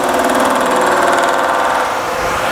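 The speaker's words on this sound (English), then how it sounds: "turn on our machine, and just come on and crank it across nice and slow" A metalworking machine runs steadily while cutting a part for a dice project, giving a loud, even mechanical drone with a fast repeating pulse and no pauses.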